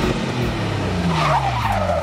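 A Lotus Tri-Fuel Exige 270E flex-fuel sports car drives hard, its engine note rising and falling with tires squealing, loud and close throughout.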